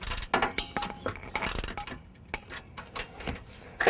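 A long screw is tightened into a 2007 Toyota Camry radiator with a ratcheting tool, a close run of quick clicks and metallic clatter in uneven bursts with short pauses between turns.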